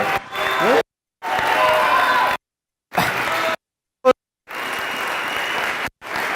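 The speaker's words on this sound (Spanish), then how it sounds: "Un fuerte aplauso para César." An audience at a live event applauds a guest with cheering and a few whoops, the clapping broken into bursts separated by abrupt stretches of silence.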